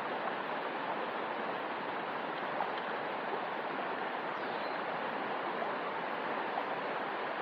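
Steady rushing water from a small waterfall and stream at a fishing spot, a constant broadband wash with no breaks, fairly close and moderately quiet.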